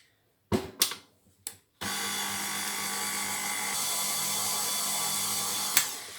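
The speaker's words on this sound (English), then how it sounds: "I'm going to turn my mixer on low, and I'm going to mix all that together just until it's combined" An electric stand mixer runs steadily on low while combining bread dough for Hawaiian sweet bread, a continuous even whir after a few clicks and knocks as it starts, heard close with no talking.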